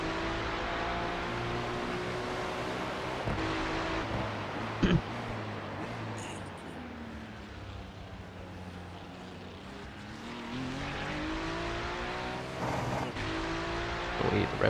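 In the iRacing video game, a race car engine at Spa rises and falls through sweeping revs, bouncing off the rev limiter with sharp stutters near the end, loud and steady throughout.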